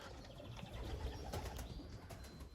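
Racing pigeon arriving at the loft, faint cooing and light wing flutter over low background noise, no talk.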